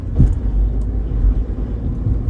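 A Renault Twingo 69 hp Intens pulls forward on the road, a close, heavy low rumble of engine and tyres that swells slightly through a short stretch.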